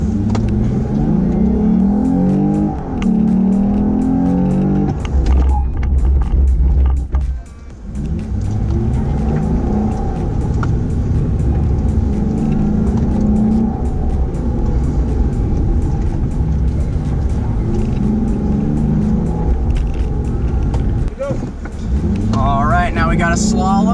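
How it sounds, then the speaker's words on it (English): Lexus RC350 in a braking and slalom exercise, its engine roaring loud and close under hard acceleration with surging, rising revs and brief dips, while people talk inside the car. "all we have to do is floor it and brake"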